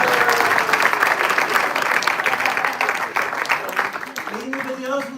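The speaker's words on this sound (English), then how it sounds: "Please, one applause for Dhruva." An audience at an evening drama celebration breaks into sustained applause, loud and continuous, with voices mixed in and a brief sung or spoken tone near the end.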